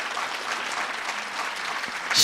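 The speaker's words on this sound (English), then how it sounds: "Can we please give her a round of applause?" Audience applause for the chairperson of a parliamentary ICT committee at a national ICT summit, a steady wash of many hands clapping that swells louder at the very end.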